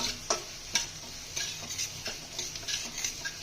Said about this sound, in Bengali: আর এদিকে আমাদের ডালগুলো ভাজা হচ্ছে।